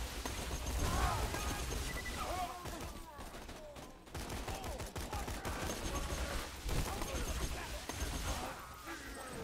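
Rapid submachine-gun fire from the Borderlands 2 shooter game, dense bursts running almost continuously alongside game effects and voices talking over it.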